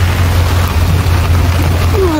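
Steady, dense rain hisses throughout over a low rumble, loud and continuous.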